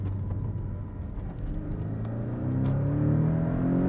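A Porsche 718 Cayman S with its turbocharged engine accelerates from inside the cabin, a low droning rumble whose pitch climbs steadily and grows louder toward the end.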